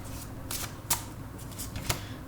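Tarot cards are shuffled and drawn close by, giving soft papery riffles and a couple of sharper card flicks over a quiet background.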